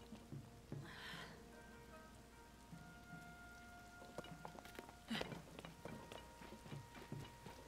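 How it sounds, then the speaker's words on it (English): Steady rain hissing down in The Legend of Zelda: Tears of the Kingdom, a continuous soft wash of drops with faint ticking accents and scattered clicks, fairly quiet and unbroken, no talking. "It's fucking raining."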